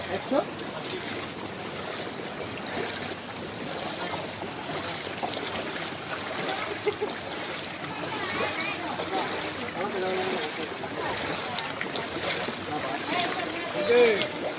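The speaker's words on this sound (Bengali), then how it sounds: "দোকানের ভিতর পানি ঢুকে গেছে বৃষ্টির কারণে" Rainwater floods into shops at Laboni Market in Cox's Bazar, a steady broad rush and splash of moving water filling the scene continuously, with voices talking over it.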